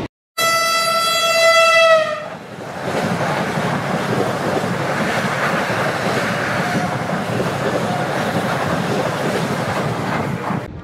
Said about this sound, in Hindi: अब मैं यहाँ से ट्रेन, लोकल ट्रेन पकड़ूँगा और सीधा जाऊँगा बांद्रा टर्मिनल रेलवे स्टेशन।